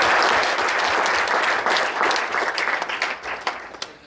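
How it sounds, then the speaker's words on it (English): A lecture-hall audience at a foundation day event applauds a visiting minister, steady crowd clapping that holds strong then thins into scattered individual claps toward the end. "So a round of applause for Hon'ble Minister."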